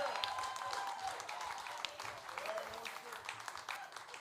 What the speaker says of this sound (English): how about a huge, huge round of applause for me?